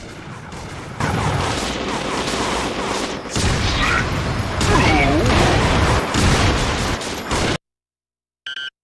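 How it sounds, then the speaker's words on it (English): A charged shot barrage in the PS2 video game Gungrave Overdose, in the Wine Cellar stage, makes a loud, dense volley of rapid gunfire blasts and crashes that goes on for several seconds. It then cuts to silence before one short final burst. "You can then fire a barrage of very powerful shots at the enemy."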